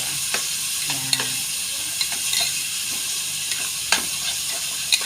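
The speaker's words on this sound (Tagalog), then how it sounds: "pa-brown natin yung mga nilahok natin dyan" Cabbage and tuna brown in a pan over high heat, sending up a constant loud sizzle punctuated by sharp spatula clicks and scrapes as the ingredients are stirred.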